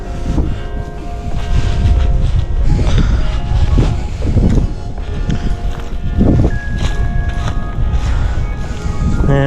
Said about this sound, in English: It is windy, it is cold.